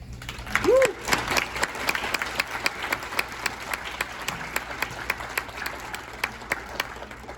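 Audience applause at a university administrative professionals keynote, a steady wash of many hands clapping through the whole stretch, with a brief voice rising out of it near the start.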